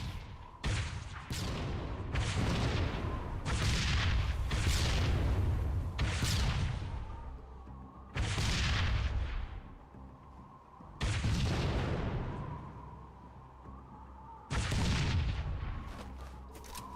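Fire grenades burst one after another in a modded Halo 3 match, each a loud, booming explosion with a fiery roar that trails off, about six blasts spread over the stretch with short lulls between.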